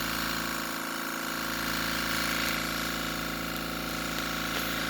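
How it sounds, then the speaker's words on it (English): A muffled air compressor runs steadily in a garage, a constant low mechanical drone with a faint pulsing rhythm, fairly loud and unbroken. "demonstrate the air compressor for you guys, just to show you how quiet this thing is"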